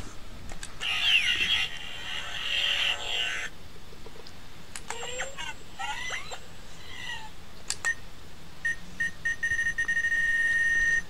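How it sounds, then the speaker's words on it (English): Electronic snail sound effects from a DenDen Sensor Memory Gadget toy from Kamen Rider W, a run of chirpy, warbling synthetic bleeps and tones that change every few seconds as a button is pressed repeatedly, close and fairly clear. "just keep pressing it numerous times to get the different little snail sounds"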